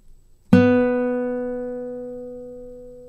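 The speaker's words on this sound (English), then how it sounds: "It's where you pluck a string and land on the adjacent string." A single classical guitar string plucked with a rest stroke (apoyando), one clear, close note struck sharply and left ringing with a long, smooth decay.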